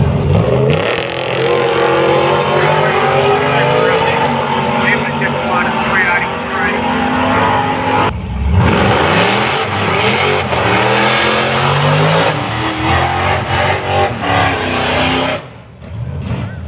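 A drag-racing station wagon, an XC wagon with a 351 cubic inch V8, roars loudly and steadily at the Riverland Nationals on the Mildura Sunset Strip, with a brief break in the engine noise partway through before it picks up again.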